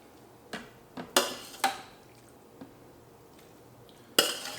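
Ingredients for a roasted eggplant puree are spooned into a blender in a quiet kitchen: several separate clinks and scrapes of a spoon against the container, spaced irregularly, with a louder knock near the end.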